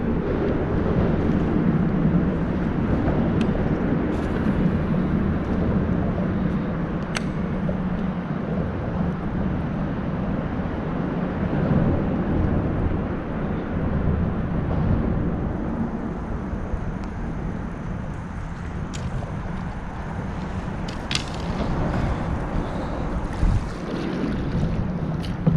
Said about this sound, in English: It is pretty windy up underneath this bridge though.